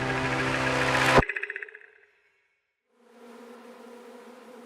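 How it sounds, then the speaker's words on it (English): A swarm of furious bees gives a loud, dense buzz that cuts off abruptly and trails away in pulsing fragments. After a short silence, a fainter steady drone returns. "out poured a swarm of furious bees"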